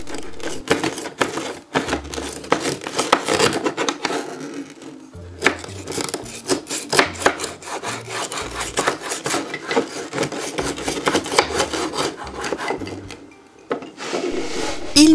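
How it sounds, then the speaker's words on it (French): Toy wooden saw rubbing back and forth across a small toy log from a children's camping play set, cutting it into four pieces: a close, steady rasping stroke with brief pauses between cuts. "On va la scier en 4 morceaux."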